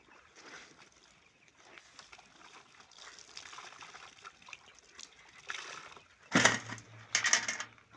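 Washed clothes are rinsed by hand in water, giving soft sloshing and trickling that builds into two louder splashing gushes near the end, close by and with no talk.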